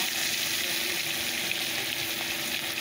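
Whole fish with roe inside fry in hot oil in a home kitchen, giving a steady, even sizzle with no pause and no talking.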